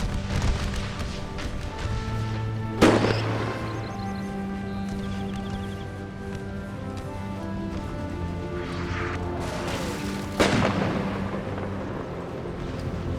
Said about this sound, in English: Those mortars are a nightmare.